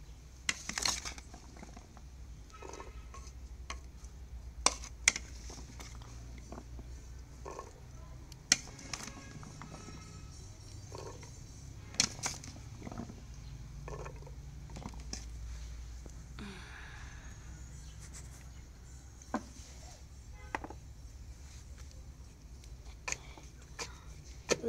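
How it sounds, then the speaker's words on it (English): Palm fruit pounded in a mortar for homemade palm oil, heard as sharp, irregular thuds and knocks spaced a few seconds apart over a quiet, low background. "I'm just going to start pounding, pour into the mortar and start pounding."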